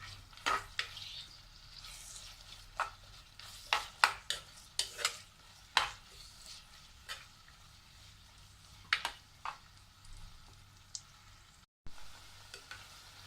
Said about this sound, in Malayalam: സവാള, പച്ചമുളക്, വേപ്പില, ഇതൊന്ന് ലൈറ്റ് ബ്രൗൺ കളർ ആകണ വരെ വഴറ്റി കൊടുക്കാം